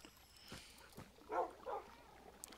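Minecraft wolf sounds: a couple of short soft yips and barks in the middle, faint game clicks and scattered noises around them, fairly quiet overall.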